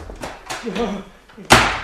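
Door slammed shut in the Tintin video game The Secret of the Unicorn: one sharp, loud bang near the end, following a man's speech.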